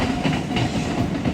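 A Japanese train at a railway station rumbles with a steady clatter of wheels and carriage noise, loud and continuous throughout.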